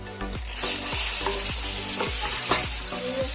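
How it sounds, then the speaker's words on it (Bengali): Prawns sizzle loudly in hot oil, with a spoon or spatula stirring and scraping the pan in a steady rhythm, while a Bengali pomfret fish curry is being prepared. "বেশি ভাজবো না চিংড়ি মাছটা বেশি ভাজবো"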